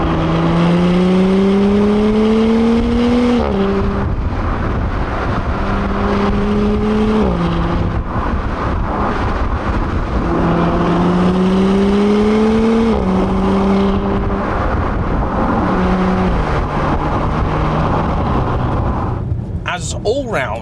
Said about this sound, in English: I apologise in advance if you don't really get much exhaust noise